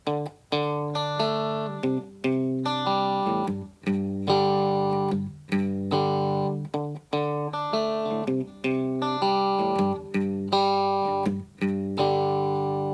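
Plucked guitar in a steady bass-bass-chord picking pattern, low single notes alternating with fuller strummed chords at a slow, even pace, played alone.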